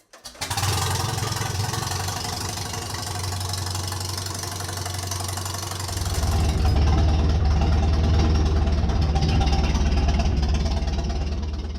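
A 1935 Farmall F20 tractor engine runs close by with a steady, knocking mid-range chug that grows louder and heavier partway through as it revs up.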